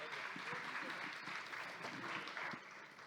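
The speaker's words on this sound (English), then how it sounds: "Let's give them a round of applause" An audience at a startup conference applauds a panel, with sustained, dense clapping at moderate distance across the whole short stretch.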